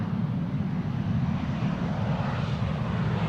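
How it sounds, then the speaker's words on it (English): A KLM Embraer jet comes in to land, its engines giving a steady, broad roar that holds at constant loudness for a few seconds with no voices over it. "KLM and Embraer in the meantime landing here in the foreground."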